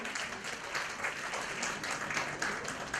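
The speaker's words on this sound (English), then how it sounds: "a thundering applause to all the panelists who are gathered here" Applause from a panel discussion audience on learning for a sustainable future, a steady wash of many hands clapping at a fairly quiet, distant level, continuing evenly without pause.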